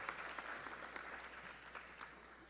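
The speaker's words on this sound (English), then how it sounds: "Let's give her one more round of applause." Audience applause at a 2018 Indian Education graduation ceremony for Tacoma Public Schools: steady, dense clapping from a crowd, heard faint and distant throughout.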